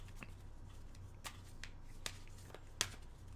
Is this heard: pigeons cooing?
no